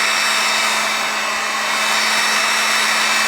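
Heat gun warming tinted window film on an Audi, a loud steady airy roar with a constant motor hum running unbroken throughout, close to the microphone and with no voices.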